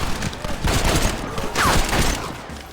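Gunfire erupts during a gate assault in the video game Red Dead Redemption, several sharp shots and a scattered volley crackling over background battle noise, fairly close and moderately loud.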